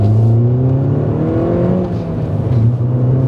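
Mini Cooper JCW GP2 turbocharged hatchback accelerating hard through the gears, engine and exhaust note climbing in rising sweeps with a brief dip at a shift, loud and close from inside the car.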